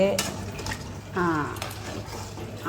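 A metal spoon scrapes and clinks against a pot while thick goat head curry is stirred, with a few sharp scraping strokes close up.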